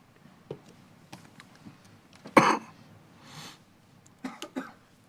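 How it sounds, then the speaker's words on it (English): A few short coughs and throat clears at a county board of commissioners meeting, one sharp loud cough in the middle, with quiet breathing and small ticks between, in a quiet room. "Now you got me coughing with your crazy cough."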